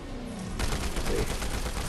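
Assault rifle firing in Fortnite, a dense rapid stream of shots that kicks in abruptly and continues steadily at moderate loudness, with no talk over it.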